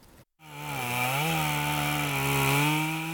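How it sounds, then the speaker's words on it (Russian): A petrol chainsaw runs steadily while felling diseased trees in a dense forest, its engine whining and wavering in pitch under load, loud and close, alone without talk. "Шум бензопилы среди густых деревьев Сунжинского лесничества не утихает с утра и до вечера."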